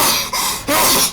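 Two bursty explosive sneezes, loud and close, with a short pause between them, each a sharp broadband blast that fades quickly.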